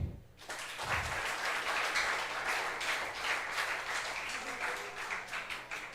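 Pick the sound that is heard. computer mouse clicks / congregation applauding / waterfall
congregation applauding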